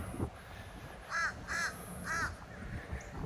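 Crows caw by a park pond, three hoarse calls in quick succession at moderate distance over faint outdoor background noise.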